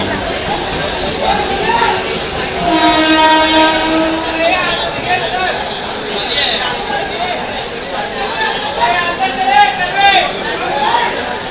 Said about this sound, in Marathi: आता दादरवरून आपली कोकणकडनं ट्रेन निघाली